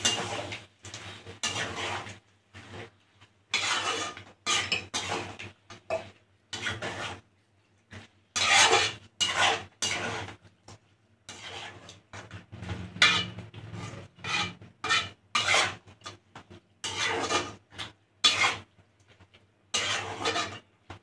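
Metal spoon stirring chicken gravy masala in a pan, repeated scraping and clinking strokes in irregular bursts separated by short quiet gaps, fairly close and moderate in volume, with no talk.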